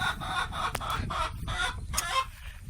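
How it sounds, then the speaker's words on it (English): Chickens clucking and squawking close by in short repeated bursts, over a rough outdoor background; three chickens, including Polish chickens, kept in a pen with goats. "We do have 3 chickens out here with the goats"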